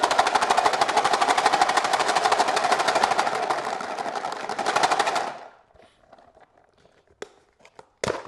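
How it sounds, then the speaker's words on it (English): Fishing baits shaken hard inside a box with dye make a loud, dense, continuous rattling for about five seconds, then stop abruptly, followed by a few faint scattered knocks and clicks. "I'm going to shake them really vigorously so they're evenly coated."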